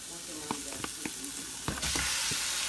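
Ground turkey hitting a hot pan with onions, green pepper and garlic for crockpot chili, a close sizzle that swells into a loud steady frying hiss, punctuated by clinks and scrapes of stirring.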